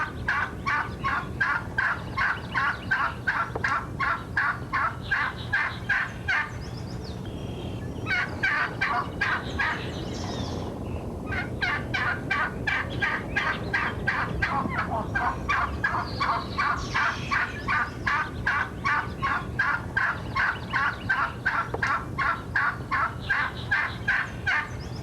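Wild turkey gobbler in the western outdoors gobbling in long rapid bursts of rattling calls, repeated over and over with a brief pause in the middle, fairly close and clear.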